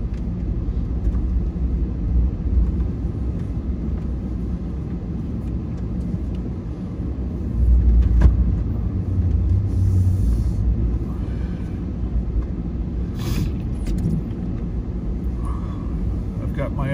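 A car on the road in a Canadian snowstorm, heard from inside as a steady low engine and road rumble that holds for the whole stretch, with a swell partway through and faint clicks and rattles over it.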